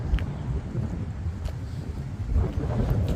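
Strong wind in Edgefield town square buffets the microphone with a steady, low roaring rumble that swells and eases without pause.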